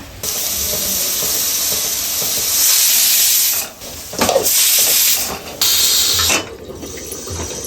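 A loud, steady pressure cooker steam hiss rushes on and off in several long bursts, cutting out briefly between them, with no talking; mutton is cooking inside.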